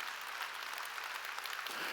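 Church congregation applauding during a sermon, a soft, steady wash of clapping heard from a distance for a couple of seconds.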